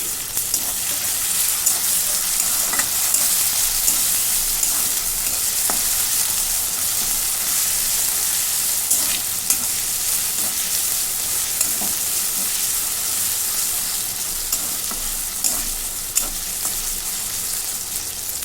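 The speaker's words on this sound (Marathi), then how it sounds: "त्याच्यामध्ये अजून एक चमचा आलं लसूणची पेस्ट टाकून घेते दही पण परतून घेते" Ginger garlic paste and yogurt sauté with browned onions for a quick chicken biryani, a loud, steady sizzle and hiss running throughout with a few faint stirring clicks, close and with no voices.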